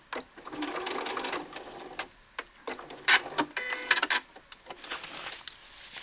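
Sewing machine back stitching a hood seam, running in short bursts of rapid needle clatter separated by brief pauses, close and fairly quiet.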